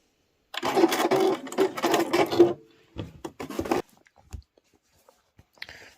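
A domestic sewing machine stitches around the edge of a fabric tray made from layer cake quilting squares, running in steady bursts near and loud, then pausing with a few short handling clicks and rustles.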